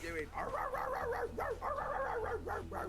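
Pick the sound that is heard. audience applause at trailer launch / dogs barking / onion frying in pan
dogs barking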